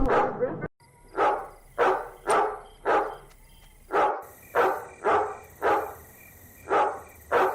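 A dog barks repeatedly in a steady rhythm of about a dozen loud, close barks, following a brief burst of talk at the start.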